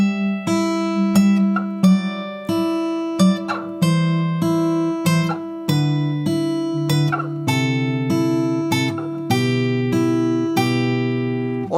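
A guitar plays a slow melodic line, one clear plucked note after another, ringing out up close with no talking.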